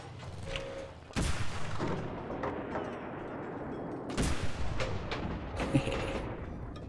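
A tank cannon in the Enlisted video game firing explosive rounds, with two heavy booming blasts a few seconds apart and their rolling aftermath over a busy battlefield background.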